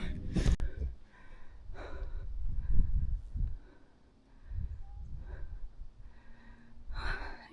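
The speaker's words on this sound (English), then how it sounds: "Ignore my breathing. I'm dying." A hiker puffs heavily while climbing uphill on a cold trail in the Grampians, with close, loud breaths and gasping exhales repeating over a faint outdoor background.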